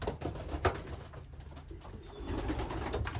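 Captive breeding birds, pigeons or doves, call in an aviary with several soft cooing notes repeated under steady rustling background noise, close by and fairly loud.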